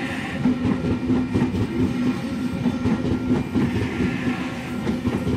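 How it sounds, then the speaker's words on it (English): An 8-car Oscar double-deck electric train, sets H14 and H10, rolls into platform one on a Central to Strathfield service at Wondabyne, with a steady loud rumble and rhythmic wheel clatter throughout, no voices. "here comes our 8-car Oscar arriving on platform number one"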